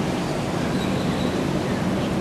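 Subway train ride toward City Hall Station, a steady broadband rumble of the moving car filling the whole stretch at an even, loud level with no talk.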